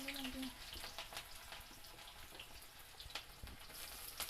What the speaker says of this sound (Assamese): প্ৰথমতে আপোনাৰ আলু আৰু পিঁয়াজখিনি অলপ ফ্ৰাই কৰি ল'ম।